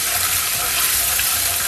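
Chicken frying in oil in a pan, a steady, close hiss of sizzling fat that holds evenly throughout with no voices.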